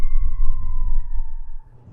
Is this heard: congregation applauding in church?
no